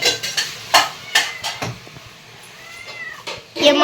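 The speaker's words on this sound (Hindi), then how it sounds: "हमारी क्यूट सी बिल्ली है" A cat meows a few times amid clattering dishes and clinking utensils nearby, with short quiet gaps between the sounds.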